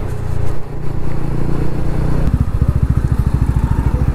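A TVS Ronin 225 motorcycle cruising on the Bangalore–Tirupati highway, its engine a loud, steady low drone mixed with wind rush, turning into a throbbing, rapidly pulsing beat toward the end.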